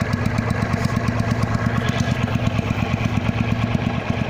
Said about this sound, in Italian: Date due o tre sgasate e lasciate cadere al minimo.